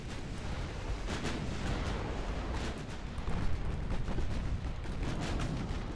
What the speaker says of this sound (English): There's the torpedo attack.